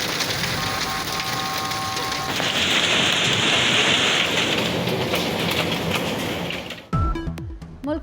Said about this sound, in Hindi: मलका कोहसार मरी में 2 रोज से बारिश और बर्फबारी का सिलसिला जारी